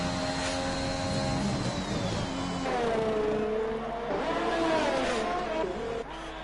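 A Formula 1 car engine in a racing video game at the Spielberg circuit in Austria screams loud and continuous, its high-pitched whine rising and dropping through gear changes.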